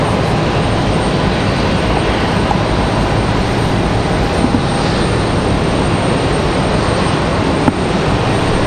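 Airliner from Hilton Head arriving at Raleigh-Durham International, a loud, steady engine roar with a faint high whine, continuous throughout and close, with one brief knock near the end and no talk.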